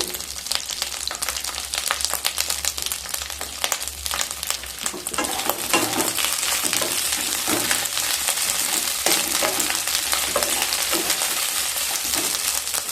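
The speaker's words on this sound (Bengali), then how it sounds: "কিউব করে কেটে রাখা পেঁয়াজ আর ক্যাপসিকামগুলোকে ভেজে নেব।" Cubed onion and medium capsicum fry in a pan for kadai paneer until lightly browned. A busy, crackling sizzle runs throughout, with occasional stirring scrapes and bursts, close and steady with no talk.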